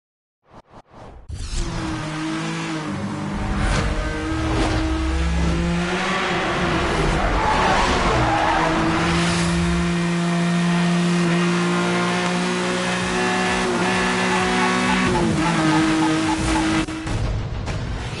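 Race cars in the Need for Speed Hot Pursuit video game, with a Lamborghini among them, rev and roar loudly and continuously, engine pitch rising and falling with whooshes and tire squeals, alone without talk.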